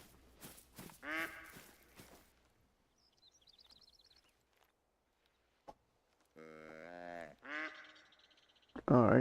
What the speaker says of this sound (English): I don't see the duck, but I hear duck.